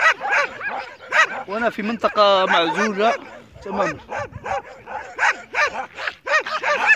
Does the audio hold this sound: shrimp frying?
no